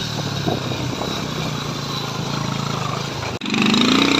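A motorcycle engine runs steadily at close range during an off-road ride, with a brief cut near the end followed by a rising, higher revving whine.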